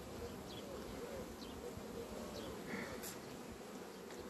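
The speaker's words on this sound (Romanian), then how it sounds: "Acum Albina aduce polen." Honeybees buzz steadily around a beehive frame while foragers bring in pollen, a soft continuous insect hum with no speech over it.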